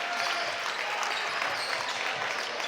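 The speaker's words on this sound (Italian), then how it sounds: "Applausi scroscianti del Palaiaia" A crowd in the Palestrina sports hall bursts into loud, thick applause during a Serie B basketball game between Pallacanestro Palestrina and Il Globo Isernia, a continuous roar of clapping filling the whole moment.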